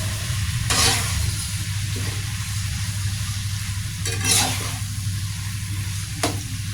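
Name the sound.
stirring bitter melon (ampalaya) in a frying pan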